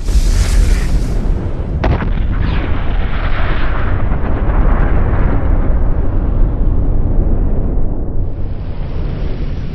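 Det cord detonation tearing apart a ballistic torso: a sharp, very loud blast near the start, followed by a long roaring wash of noise that slowly settles.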